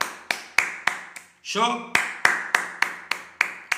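A preacher claps his hands in a steady rhythm, about a dozen sharp, close slaps roughly a third of a second apart, broken by a single short spoken word in the middle.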